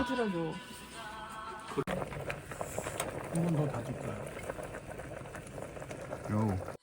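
Ramen noodles boiling in a pot at a snowy mountain lodge while camping, a steady bubbling simmer running throughout, with voices talking over it now and then.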